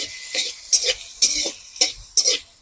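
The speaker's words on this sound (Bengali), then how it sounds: "পেঁয়াজটাকে ভেজে নিই আমি" Chopped onion with ginger, garlic and chilli fries in hot oil while a spoon stirs it, giving four or five distinct scraping, sizzling strokes close to the microphone with short gaps between them.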